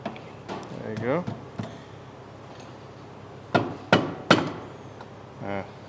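Hammer taps on the side of an off-road UTV's steering knuckle (CFMOTO ZForce Sport) during a forward offset arm install: several sharp metallic knocks, three close together near the end, with talk in the clip.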